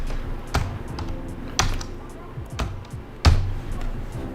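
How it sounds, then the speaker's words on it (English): Numbers being typed on a computer keyboard: a few soft, spaced key taps under steady background noise, with a voice talking throughout. "so I'm gonna type that in up here"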